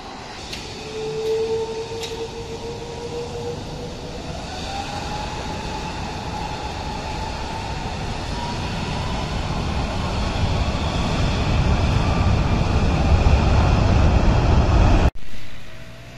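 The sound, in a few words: Airbus passenger plane taking off from Dhaka airport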